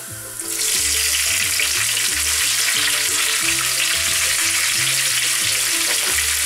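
Bell peppers dropped into a hot pan with browned, finely chopped garlic, bursting into a loud, dense, continuous sizzle up close that holds steady throughout, with a low rhythmic hum underneath.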